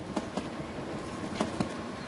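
Iron ore freight train passing on the opposite track, heard from inside a moving passenger train as a steady low rumble with a few rhythmic clacks of wheels over rail joints.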